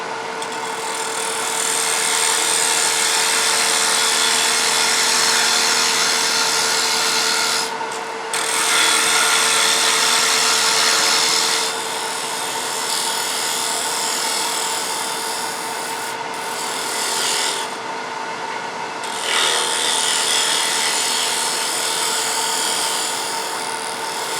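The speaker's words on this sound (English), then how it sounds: "So let's just come straight in with a bowl gouge." A bowl gouge cuts into wood spinning on a lathe, giving a loud continuous scraping hiss over the motor's steady whine, with a few short pauses between passes.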